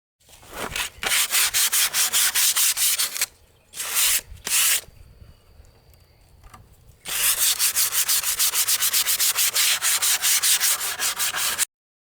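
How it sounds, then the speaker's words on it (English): Wood is hand-sanded with 150 grit sandpaper, producing loud, close, rhythmic scratchy strokes in rapid bursts, a short pause with a couple of strokes, then a long steady run of brisk back-and-forth rubbing. "I'm going to go 150 grit on the top portion of it."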